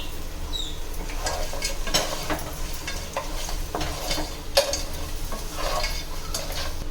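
Cleaned crabs go into frying masala and get stirred, giving close, irregular scraping and clattering against the pan over a soft continuous sizzle.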